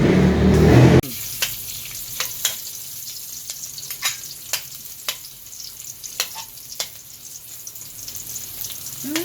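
Garlic and onion sizzle steadily in hot oil for pansit bihon, a close, continuous frying hiss dotted with sharp crackles and pops, with no one speaking.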